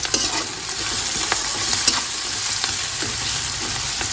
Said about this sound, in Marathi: ही आता थोडा वेळ आपण अशी फ्राय करून घ्यायची।